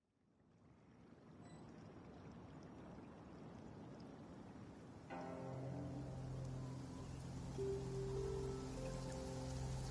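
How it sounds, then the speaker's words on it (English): Rain falls in the video game Genshin Impact, a steady hiss that builds gradually and thickens midway, with soft tonal game sounds drifting over the downpour. "It's raining again?"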